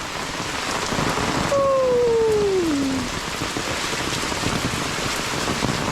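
Steady rain pours down in a village, a dense even patter throughout, with a brief falling whistle-like tone partway through.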